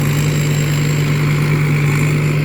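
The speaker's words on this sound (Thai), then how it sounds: "เสียงเครื่องยนต์ก็ไม่ได้หนักอะไรมากมายนะครับ ก็ปกติดีนะครับ" A stock, unmodified car engine idles steadily with a constant low hum and drone, loud and close, no voices.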